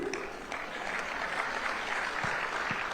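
Applause from an audience at a sports festival event fills the whole stretch, a dense, even clatter of clapping with no pause.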